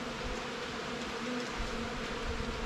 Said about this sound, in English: Bees all flying around me enjoying themselves